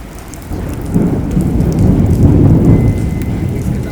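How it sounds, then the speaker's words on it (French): Steady heavy rain pours down during a mountain thunderstorm, with low rumbling thunder swelling and rolling underneath, loud and continuous with no voices. "Il y a toujours l'orage, hein, mais il est beaucoup plus loin, il est parti de la vallée."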